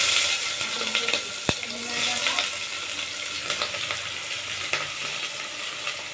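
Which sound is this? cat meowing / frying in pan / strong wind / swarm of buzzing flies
frying in pan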